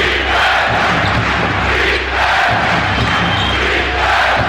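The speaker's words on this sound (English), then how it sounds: "And the chant of defense from the crowd." A packed Madison Square Garden basketball crowd chants loudly during a 1993 Knicks home game against the Houston Rockets, a dense, steady roar of voices with rhythmic swells filling the arena throughout.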